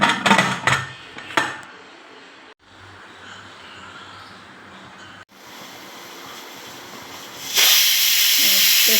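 Steam hisses loudly from a pressure cooker on the stove during the cooking of a soup, with a continuous rushing hiss, brief clattering near the start and a sharp surge of steam near the end.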